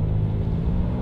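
Steady low exhaust rumble from a Kia Telluride SUV fitted with an aftermarket Borla exhaust, idling evenly and fairly loud with no talk over it.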